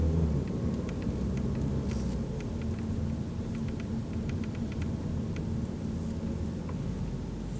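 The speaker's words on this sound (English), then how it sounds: "The 2-liter 4-cylinder takes off quickly." A steady low engine rumble from a 2012 Ford Focus SE's 2-liter, 160-horsepower four-cylinder, with road noise inside the moving car, fairly even and constant with no voices.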